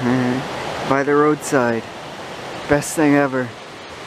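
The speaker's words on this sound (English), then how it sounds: "the sounds of the rushing water all night" Rushing water at a bush campsite by a roadside in wild Chilliwack, a steady broadband roar running throughout beneath a man's close speech.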